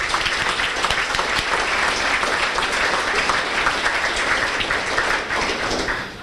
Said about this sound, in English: Big rounds of applause for our managers.